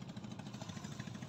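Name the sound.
boat with two engines running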